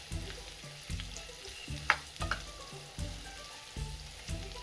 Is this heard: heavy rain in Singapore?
no